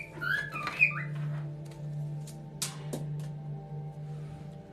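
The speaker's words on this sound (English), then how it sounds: "the parts where the birds are not squawking in the background" Indoor birds give a burst of chirpy whistled squawks, then one sharp call a few seconds later, all over a constant low electrical hum with no talking.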